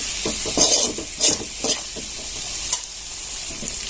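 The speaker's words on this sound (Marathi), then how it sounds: "आता आपल्याला बेसन पण चांगलं परतलेलं आहे बघा किती छान आता पुन्हा गिरवी एकत्र करून घेऊया" Palak paneer gravy cooks in a pan with roasted gram flour, making a steady sizzle up close. A spoon stirs it in several distinct scraping strokes, and no one speaks.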